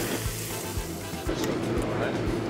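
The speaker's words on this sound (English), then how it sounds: "I'm actually gonna pour this into the ginger scallions." Hot oil is poured onto chopped ginger and scallions, crackling and sizzling loudly and steadily at close range, with a voice talking over it.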